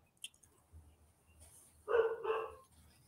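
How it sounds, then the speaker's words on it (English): A dog barks twice in quick succession at moderate distance, loud compared with the quiet background, with no talking. "Can you hear the dog?"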